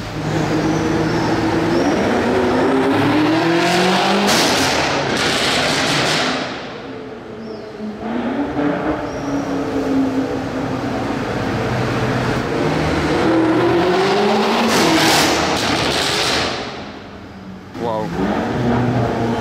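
A BMW M5 accelerates hard on a Monaco street with rising, roaring engine sweeps that fade and build again. Voices can be heard over the engine noise.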